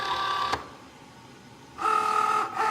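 A cutting machine draws a silver sheet under its guides into the rollers, giving a steady mechanical whirring hum that stops briefly after a click, then resumes louder near the end; no talking.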